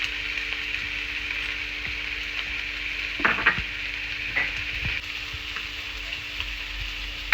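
Beef curry with ground pepper, cinnamon and clove masala sizzles steadily in the pot while being stirred, with a few louder scraping stirs partway through and a low background hum.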